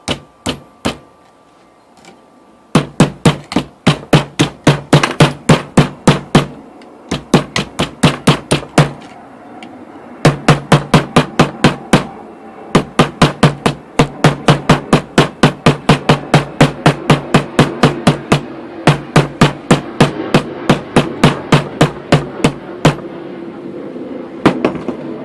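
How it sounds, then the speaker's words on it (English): Sharp metallic hammer strikes ring out in steady rapid bursts as a quarter coin is hammered into a ring, dozens of close, bright taps separated by brief pauses, with no talking. "I'll show a little bit more hammering"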